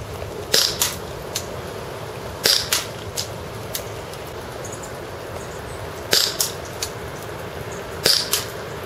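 Marushin Derringer toy pistol fired at targets, four sharp snapping shots in two pairs spread across the stretch, each crisp and fairly loud over a steady low background hum, no talking.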